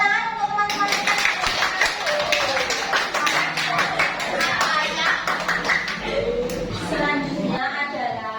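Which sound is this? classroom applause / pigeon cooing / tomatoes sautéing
classroom applause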